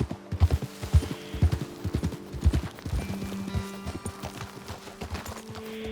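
Horses' hooves in Red Dead Redemption 2, a rhythmic clip-clop of riders slowing on a path, fairly close, with a short neigh and steady footfalls easing toward a stop.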